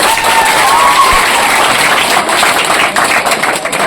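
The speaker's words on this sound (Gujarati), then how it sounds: "હવે તાળી પાડી પાલન છે" A school crowd claps at an anti-addiction awareness event, a loud, steady roar of many hands close by, with a low rumble underneath.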